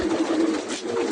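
Pigeons cooing in a club loft, a brief, close, low burbling coo against a soft background murmur, no talking.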